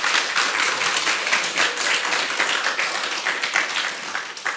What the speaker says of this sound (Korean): 우리 귀한 말씀 전해주신 목사님께 감사의 박수 드리겠습니다.